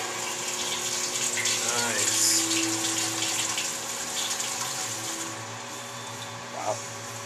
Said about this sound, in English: We're going to set the pump to pump back into the kettle.